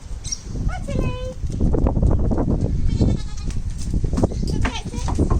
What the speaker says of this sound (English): So we've got our 3 goats here.